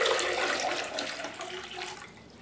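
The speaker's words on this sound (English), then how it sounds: "fill your crock pot with water" Water runs steadily into a crock pot being set up as a pickle pot for cleaning metal items, a continuous broadband splashing pour heard up close with no voices.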